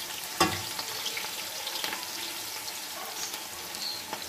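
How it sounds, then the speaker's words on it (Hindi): Onions frying in a pan until golden brown for chicken pulao, giving a soft, steady crackling sizzle with a sharp tap near the start and faint stirring sounds, and no voices. "प्याज को हमने अच्छी तरह गोल्डन ब्राउन करना है।"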